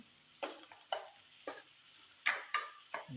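Onions cook in a pan for chicken curry, with a quiet sizzle broken by about six sharp scraping stirs of a utensil against the pan at irregular intervals.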